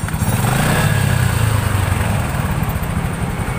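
A Yamaha Jupiter MX motorcycle engine revs loudly and steadily up close during a stator coil check, holding a continuous throttled drone for a few seconds with no talking.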